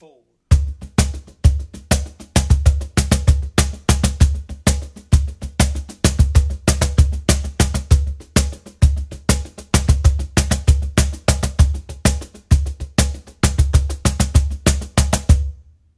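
A blues shuffle fill pattern played on a cajon, steady swung rhythm of deep bass thumps and sharp slaps repeating for about fifteen seconds, close and loud with no talking.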